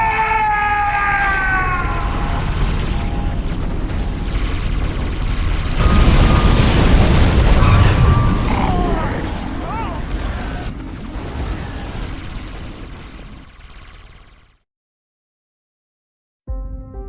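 Engine crashing into a tower in the Mental Omega video game: sirens wail over a loud, rolling explosion that swells, then fades into a rumble before silence and a brief final sound.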